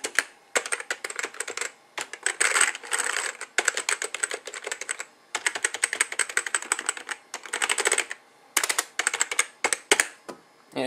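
Rapid bursts of key clicks from a mechanical computer keyboard with one slightly wobbly shift key, typed in clustered runs with brief pauses between them, close and fairly loud with no talking.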